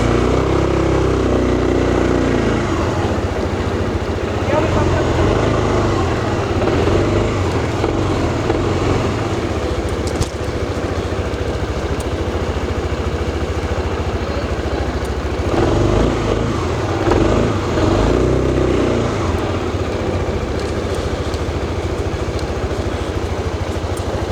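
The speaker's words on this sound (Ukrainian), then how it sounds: "Зараз проїдусь." Suzuki Skyway 400 ABS scooter with 12,000 km on it riding off, a steady engine drone with a rough low rumble and slight swells in pitch, continuous and fairly close.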